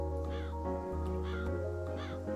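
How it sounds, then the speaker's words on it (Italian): Crow cawing in a cat-themed life-simulation video game, three loud harsh caws spaced about evenly over a steady droning game music bed, no speech. "oh, un corvo"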